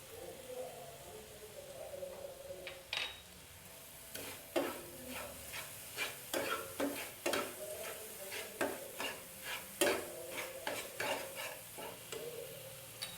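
A spoon stirs sugar into thickened khoa for kheer potol, making repeated soft scraping strokes against the pan in an irregular rhythm over a quiet sizzle, close by with no talking.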